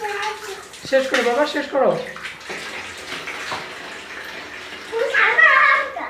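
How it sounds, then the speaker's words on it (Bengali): Water is poured from a mug over a child's head during a bath in Bangladesh, splashing in bursts beneath an adult's coaxing voice and a child's chatter. "মাথায় জল দাও, ওইটা দিয়ে, মগ দিয়ে"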